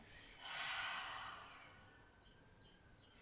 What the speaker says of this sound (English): one deep breath together, inhaling through your nose and exhale through your mouth